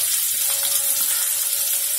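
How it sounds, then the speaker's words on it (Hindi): Onions fry in a pan for masala dosa filling, giving a continuous even sizzle with a faint steady tone underneath, close and moderately loud, with no speech. "अभी आपको प्याज लाल हुए तक उसे भून लेना है।"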